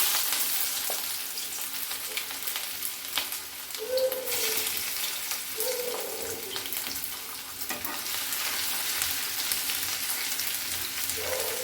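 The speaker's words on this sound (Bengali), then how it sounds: "এবার আমি ওই তেলে আদার কুচি দিলাম।" Chopped ginger sizzles and fries steadily in hot oil for a dhaba-style spicy masala potato dish, a continuous crackling hiss with occasional louder bursts and stirring, close and without talk.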